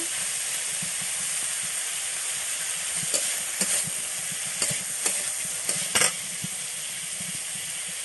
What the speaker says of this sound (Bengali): হালকা করে একটু ভেজে নিয়েছি